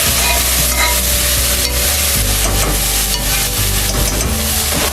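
Dal and red chillies being stirred and sautéed in a hot pan for a Tamil keerai chaaru, a steady close sizzle and frying hiss with scraping stir strokes running throughout, no voices.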